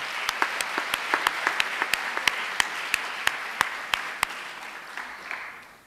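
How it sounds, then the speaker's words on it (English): Warm applause fills an awards ceremony hall, honoring an English-language-teaching prize winner who is absent. Steady, moderately loud clapping from a mid-sized audience runs for about six seconds, with a few sharp claps standing out, then fades. "she deserves a warm applause"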